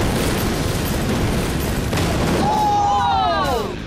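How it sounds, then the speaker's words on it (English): A bazooka firing at a Destroy Build Destroy demolition event, a loud sustained roaring blast and rumbling explosion with debris noise, followed by a rising whistle-like tone as it fades. "The bazooka made like a huge explosion and everything just flew off."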